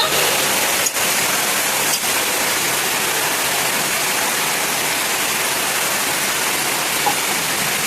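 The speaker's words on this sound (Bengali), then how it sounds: "পরিমাণ মতো জল দিয়ে দিব।" Water pours steadily into a cooking pot for a fish-head rice dish (muri ghonto), a close, continuous rushing splash that barely changes for about eight seconds.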